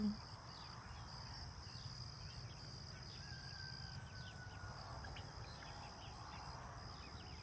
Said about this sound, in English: He's let the chickens and turkeys and guineas out.